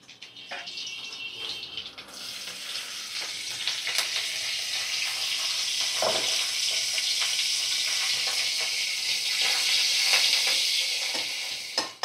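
Curry leaves sizzle and crackle in hot oil in a pan, a loud, steady frying hiss that swells after a brief quieter start and continues without pause, with occasional stirring scrapes.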